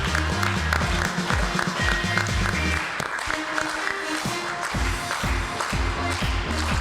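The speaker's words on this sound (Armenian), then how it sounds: "Բուռն ծափահարություններով դիմավորեք։" Applause for an assistant at an event, a steady patter of clapping from an audience that continues throughout, with music-like tones sounding alongside it.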